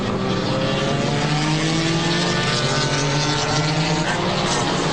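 The number 4 Porsche race car roars past on a circuit, a loud, high-revving engine drone whose harmonics slide gradually in pitch as it passes.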